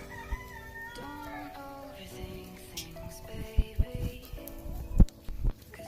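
Backyard chickens in a winter farm run, with a rooster crowing in drawn-out calls and hens clucking, fairly faint, with a few sharp knocks and scuffs nearby.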